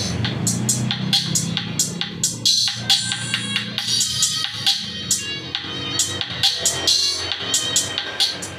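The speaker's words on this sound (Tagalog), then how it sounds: "Yan, mas ganyan yung tunog niya pag may filter capacitor siya." Piezo tweeter driven through a 3.3 µF 250 V filter capacitor playing music, with bright repeated high-end hits and sustained tones over a busy mix, steady and moderately loud throughout.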